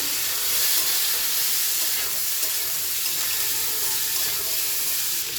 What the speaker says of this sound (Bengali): অল্প পানি দিয়ে দেবো বন্ধুরা।